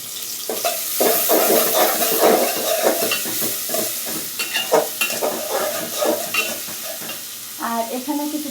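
A spatula stirs pangas fish curry in a sizzling pan with oil, giving steady frying hiss and repeated scraping strokes up close, with no talking.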